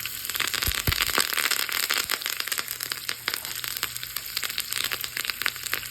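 Curry leaves, cumin and chopped green chillies crackle and spit in hot oil for a tempering, a dense continuous sizzle with sharp pops scattered throughout, close up and with no talking.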